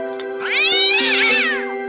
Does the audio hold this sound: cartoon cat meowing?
yes